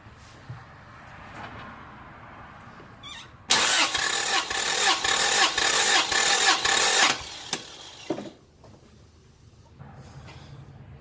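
The engine of a 1996 Toyota Corolla cranks during a compression test in a loud, rhythmic starter-motor churn lasting about four seconds, then stops, with quieter background before and after.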